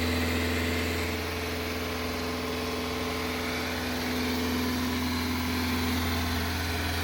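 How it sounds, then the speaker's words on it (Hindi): A Tata Nexon diesel engine held at raised revs during a forced DPF regeneration, a steady droning hum with a constant low tone and no voices, sustained evenly throughout. "ये देख सकते हैं इंजन किस तरह से रेस दिए हुए हैं"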